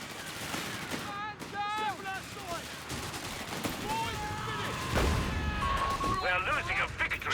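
Fallschirmjäger firing rifles in a Company of Heroes 3 battle, with scattered cracks and bursts of shots and distant explosions running steadily beneath someone talking throughout.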